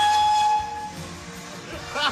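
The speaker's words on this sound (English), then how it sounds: "find an old steam locomotive like they used all those decades ago" An old steam locomotive on the Gloucestershire Warwickshire heritage railway in the Cotswolds gives a clear, loud whistle at the start, followed by sustained hissing steam that fades and swells again briefly near the end.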